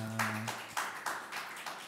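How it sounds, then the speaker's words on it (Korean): A church congregation at an early-morning prayer service claps in a loose, slow rhythm, several distinct beats of massed hands after a fading sung or sustained tone, fairly quiet overall. "우리의 찬양과 기도를 받으신 하나님께 영광의 박수 올려드리겠습니다"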